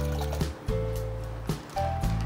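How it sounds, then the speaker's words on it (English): Water boiling in a pot on the stove, ready for cooking Hakka noodles: a steady, close bubbling roil with a constant low rumble and a few soft surges, with no one talking. "The water is boiling."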